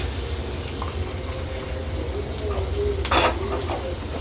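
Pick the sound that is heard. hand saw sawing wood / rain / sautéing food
sautéing food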